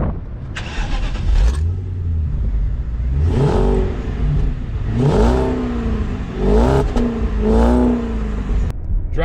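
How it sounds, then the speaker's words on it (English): BMW Alpina B7 sedan with an Akrapovic tuned exhaust, revved several times in a row, each blip rising and falling with a deep, loud, close roar between quieter idle stretches. "this is the Acropovic tuned exhaust, and it makes a glorious sound"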